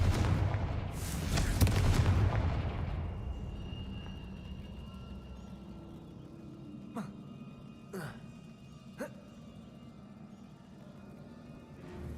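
A Confringo blasting spell going off in Hogwarts Legacy: a loud, rumbling explosion up front that decays over a few seconds, followed by three short sharp cracks amid a low ambient game hum.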